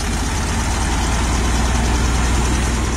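A car engine idles and runs steadily during a distributor test with a spark plug wire pulled, holding a continuous low rumble close by with no clear rise in revs.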